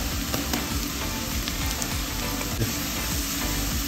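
Curry leaves and sliced green chillies sizzle in hot oil while cooking a Kerala Angamaly pork fry, a loud, continuous crackling hiss with scattered sharper pops throughout.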